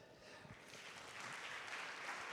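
Audience applause for the models at a talk on fasting, a steady broadband clapping wash that swells slightly and holds loud for a couple of seconds with no voices.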